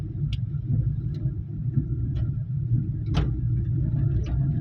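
A car engine idling and gently pulling as a learner driver accelerates a little, heard as a steady low interior rumble with faint clicks and ticks over it.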